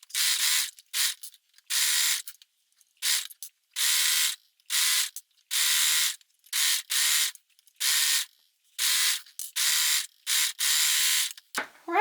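Sewing machine stitching a knit cardigan sleeve, stopping and starting in many short, even bursts of whirring motor at close range, with no talking.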